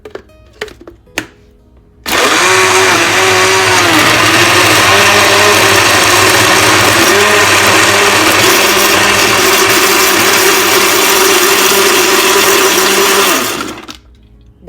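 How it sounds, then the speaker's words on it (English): An electric blender whirs loudly through papaya, ice and water for a papaya smoothie, starting abruptly after a few faint clicks and running at a steady, churning pitch for about eleven seconds before cutting off. "start it. Blender."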